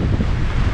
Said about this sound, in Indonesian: Bumbung punya kuat angin ni.